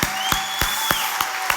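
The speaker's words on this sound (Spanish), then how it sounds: "¿Cuántos se ponen de pie y le dan un aplauso a Él hacia arriba?" A church congregation claps in a steady, even rhythm, one sharp collective beat roughly every third of a second, over a sustained tone held in the background.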